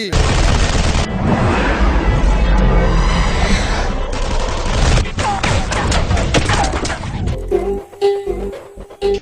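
A blast of gunfire or firecrackers in a Malayalam movie comedy scene, with loud booming cracks and a dense burst of rapid shots over several seconds, followed by a few scattered thuds as it fades.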